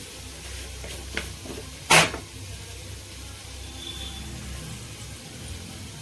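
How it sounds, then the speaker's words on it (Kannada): Mustard seeds splutter in hot oil while tempering a Kannada hithakbele saaru, with a low, steady sizzle broken by a few scattered pops and one sharp, loud crackle near the middle. No voices. "ಇವಾಗ ಸ್ವಲ್ಪ ಸಾಸಿವೆ ಹಾಕಿದ್ದೀನಿ ಸಾಸಿವೆ ಇವಾಗ ಚಟಪಟ ಅಂತ ಇರ್ಬೇಕಾದ್ರೆ"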